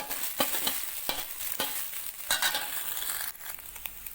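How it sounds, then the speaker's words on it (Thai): A metal spatula strikes and scrapes a wok in repeated sharp clacks, chopping fried egg into small pieces over a soft sizzle of frying, heard close. "เอาตะหลิวเลยตีเลยค่ะ ให้มันเป็น ชิ้นเล็ก ๆ นะ ตัดเลยด้วยตะหลิว"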